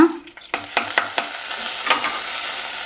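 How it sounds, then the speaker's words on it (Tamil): Mustard seeds splutter and pop in hot oil, a steady close fry with a quick run of sharp crackling pops early on, no voices. "இப்போ வந்து கடுகு கடுகு பொரியுது ஃப்ரெண்ட்ஸ்"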